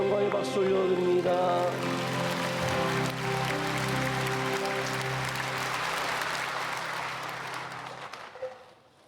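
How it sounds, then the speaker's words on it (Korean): A church congregation applauds during a Sunday worship service, a full, sustained wash of clapping over lingering organ or keyboard tones, fading out near the end. "함께 영광의 박수 올려드립니다"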